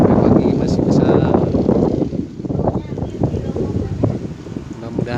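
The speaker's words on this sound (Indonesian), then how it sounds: "Ini dari jam 12 malam angin besar sampai pagi masih besar." Strong wind blows hard and without a break in Pangalengan, a loud, rough roar buffeting the microphone with gusts that rise and dip.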